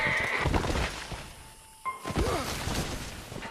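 A horse in Red Dead Redemption gives one short, fairly close whinny midway. It cuts through busy gameplay rumble and scuffling, and there is no talk.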